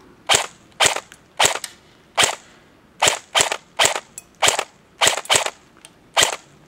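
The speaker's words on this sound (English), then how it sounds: "what we're going to do is we'll start doing a shooting test" KWA Ronin Tekken TK-45 airsoft pistol firing during an outdoor shooting test, about a dozen sharp loud snapping shots in an uneven rhythm, some in quick pairs, with no talk.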